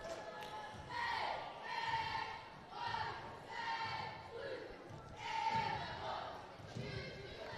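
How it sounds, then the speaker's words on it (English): Crowd noise fills a high school girls basketball gym between Happy Valley and Hampton, with a steady murmur of spectators and voices swelling in waves alongside scattered thuds from the court. "Pretty good crowd tonight."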